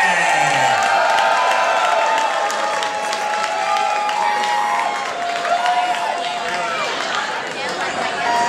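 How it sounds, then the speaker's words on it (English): Loud, sustained applause and cheering from a live audience welcoming drag performer Dulce De Leche, a dense wash of clapping and whoops that holds steady throughout with crowd chatter mixed in. "Give a huge round of applause for Dulce De Leche."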